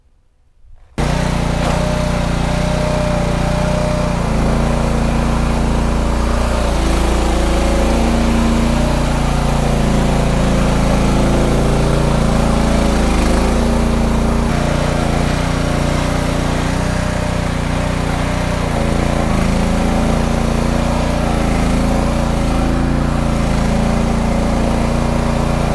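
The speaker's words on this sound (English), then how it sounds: "let me go get the skid steer," A skid steer's engine kicks in after a second of near quiet, then runs as a steady, loud mechanical drone with a constant low hum for the rest of the stretch.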